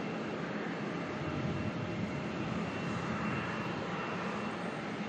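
Jet aircraft engines spool up at Melbourne Airport, a steady, fairly distant broadband roar that holds even throughout, with no voices.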